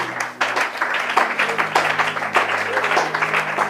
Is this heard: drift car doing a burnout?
no